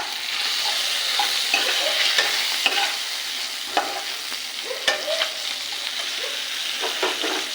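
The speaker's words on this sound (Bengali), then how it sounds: "মাছের মাথাটাকে ভেঙে নেব।" Hilsa fish head being broken apart and stirred in a frying pan with ginger, giving a steady close sizzle with scattered scraping and stirring clicks throughout.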